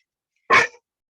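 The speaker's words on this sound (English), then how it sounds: "You're not gonna bark." A dog gives a single short, loud bark or huff, close by and alone in an otherwise quiet indoor setting.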